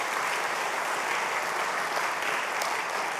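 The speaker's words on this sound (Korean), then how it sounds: "박수 한번 하도록 하겠습니다." A church congregation at a Sunday praise worship service bursts into loud, dense applause, many hands clapping in an even, sustained wash that stays strong throughout.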